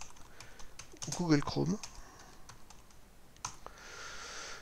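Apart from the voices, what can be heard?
typing on a computer keyboard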